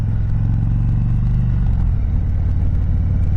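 2021 Indian Chieftain Darkhorse motorcycle engine under throttle: a loud, low, continuous rumble that swells briefly and then settles, heard up close without speech.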